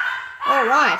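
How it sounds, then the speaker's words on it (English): Indoor dogs let out a brief, close, wavering whine or yelp lasting under a second, overlapping a short spoken remark. "Excuse my dogs."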